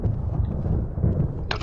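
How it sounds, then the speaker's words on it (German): Deep rolling thunder in the Resident Evil video game, a sustained low rumble through the whole stretch, ending with a brief brighter crackle. "Ja, die Atmosphäre ist schon die richtige mit Blitz und Donner."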